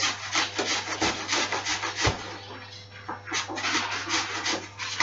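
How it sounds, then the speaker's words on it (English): An apple grated by hand for a marrow and apple cake, a steady run of rhythmic rasping strokes, close and fairly loud, with a brief knock midway. "So you first shave your apple or grate it."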